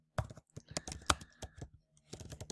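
Keys on a computer keyboard clatter in quick irregular bursts, close and crisp, with a short pause before a final run of taps.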